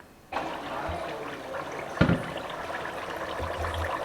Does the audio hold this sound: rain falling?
no